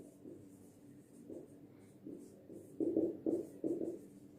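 A pen scratches out a geometry solution on paper, with steady strokes in short bursts that grow a little louder and denser toward the end; close-up and alone.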